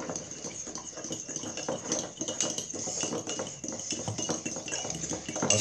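Three eggs being stirred in a bowl, a rapid irregular clatter of utensil against the bowl that continues throughout at moderate loudness.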